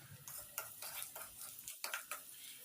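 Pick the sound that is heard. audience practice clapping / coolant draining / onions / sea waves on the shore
onions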